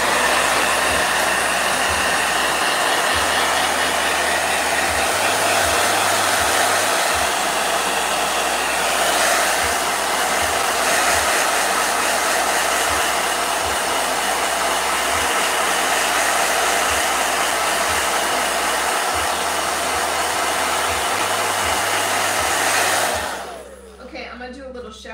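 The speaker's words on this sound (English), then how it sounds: "Blow dryer!" Close, loud hair dryer blowing in a constant airy whoosh for over twenty seconds before switching off near the end.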